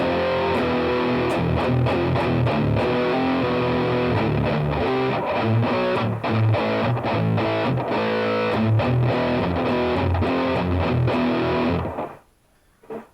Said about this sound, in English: But that is the Rowin Noise Gate.